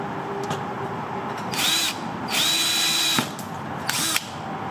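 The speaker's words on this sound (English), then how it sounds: "I'm gonna have to drill these at 3/8" A power drill with a 3/8 bit whirs in three bursts, the longest in the middle, close by over a steady background hum.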